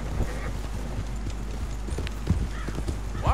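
Horse hooves in Red Dead Redemption 2 clip-clop irregularly over a busy background of ambient noise, with a brief animal call near the end.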